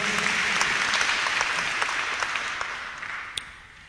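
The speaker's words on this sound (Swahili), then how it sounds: "Wapi makofi ya Kawanjiko?" A crowd at a church gathering in Kenya applauds steadily, a dense, fairly loud patter of clapping that gradually thins and fades toward the end with a last isolated clap.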